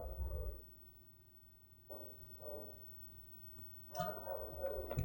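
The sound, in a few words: dogs howling and barking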